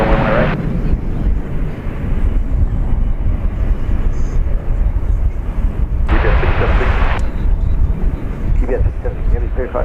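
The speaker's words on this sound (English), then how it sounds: "This is American Flight 1832 off to Denver. It's an Airbus A321." An American Airlines Airbus A321 jet takes off for Denver at DFW Airport, a loud sustained engine roar with wind buffeting on the microphone, under continuous talk.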